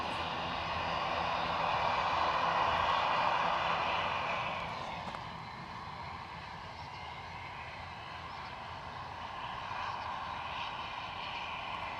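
Airliner departing Edinburgh Airport, a broad jet roar loudest in the first few seconds before easing to a steady, softer rumble as it climbs away at a distance, with no talk.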